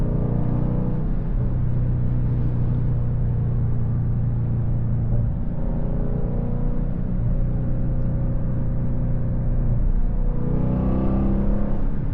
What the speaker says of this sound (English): It's funny, it's really not that much engine braking.